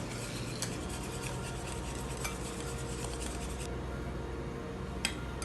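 Prawn cocktail ingredients with white pepper being mixed in a bowl, with soft scattered clinks and scrapes of a utensil against the bowl over a steady low hum, faint and close, with no talking.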